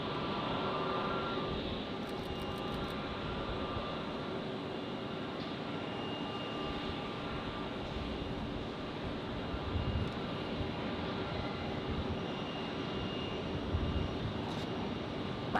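A JetBlue jet airliner cleared to land on runway 19 left at Tampa International Airport rumbles steadily in the distance, a broad continuous engine roar with faint outdoor background.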